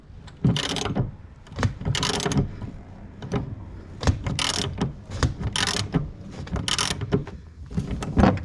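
An 18 mm bolt on a Jeep being worked loose with a breaker bar and 12-point socket, a busy run of close metallic ratcheting clicks and clunks in uneven bursts, no voices.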